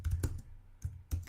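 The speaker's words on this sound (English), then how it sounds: "Let me type this in." A few quick keystrokes on a computer keyboard, soft close clicks in two short bursts with a gap between them, faint and without speech.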